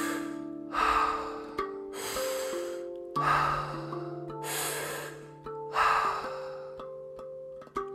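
Controlled hyperventilating breaths drawn in and blown out through the mouth during guided breathwork, heard as steady rhythmic breath surges about every two and a half seconds, close and clear over a soft sustained musical drone.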